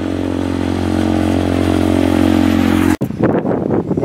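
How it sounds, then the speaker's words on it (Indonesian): A steady engine drone holds for a few seconds, then cuts off abruptly into a rougher, clattering rumble as a single motorcycle goes by on a quiet road. "Cuman ada satu motor"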